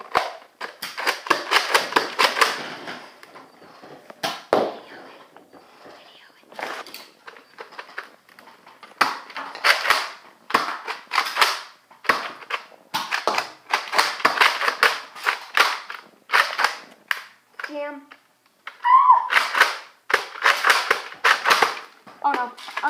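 A Nerf Retaliator Elite toy blaster is repeatedly primed and fired, sharp plastic clacks and dart pops coming in quick irregular bursts with short pauses between, loud and close throughout.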